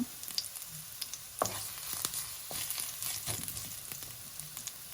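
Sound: garlic stir-frying in a pan for fried rice

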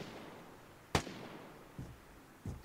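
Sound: gunshots on a rail bridge in the video game Vigor

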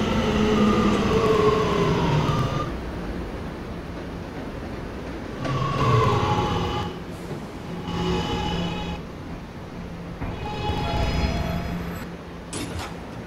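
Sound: R211A subway train running in Roblox video game

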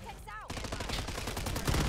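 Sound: RAM 9 SMG gunfire in the video game Modern Warfare 3

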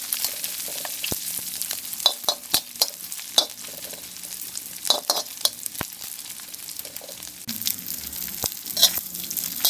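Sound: frying belacan and anchovies until crispy

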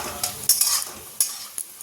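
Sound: potatoes and coconut pieces stir-frying in a pan

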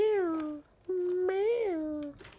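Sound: cat meowing in the video game The Evil Within 2

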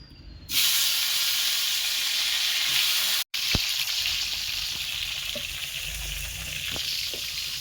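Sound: oil sizzling in a wok

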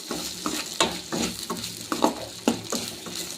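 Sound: dry-roasting moong dal on low flame

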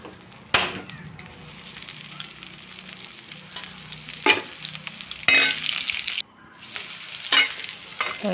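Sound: onions sautéing in a pan

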